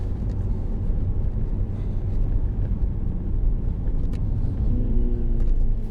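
A 306bhp MINI Clubman JCW driving on a road, steady low engine and tyre rumble heard from inside the cabin, continuous and moderately loud with no talking.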